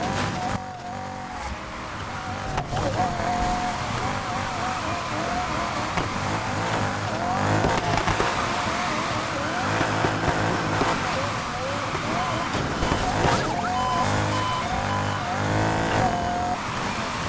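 A Corvette Z06 in the racing game Need For Speed Heat drives with a constant revving engine drone and shifting pitch, alongside other game car noise, while a player talks over it.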